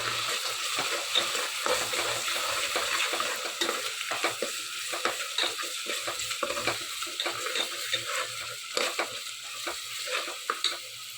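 Steady sizzle of frying in a pan with turmeric added, a dense hiss with scattered clicks of stirring running throughout, close and fairly quiet, with no talk.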